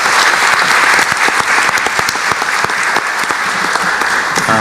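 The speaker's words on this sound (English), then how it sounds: "if we could all give the panelists a round of applause" An audience claps in a dense, lively burst of applause, filling the room evenly from start to finish.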